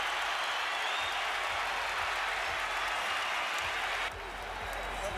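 An arena crowd applauds and cheers during the Kovalev vs Ward boxing title fight at T-Mobile Arena, a steady dense roar of clapping that drops slightly near the end, with a commentator talking over it.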